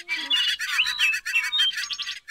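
Someone whistles in imitation of a bird, a bright run of quick chirping trills and tweets in several bursts, close and clear against silence.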